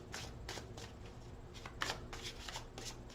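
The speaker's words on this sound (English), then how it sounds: "One more shuffle." Tarot cards are riffled and shuffled by hand in a quick run of crisp, papery bursts, repeated about eight times in a steady rhythm, close up and alone with no talking.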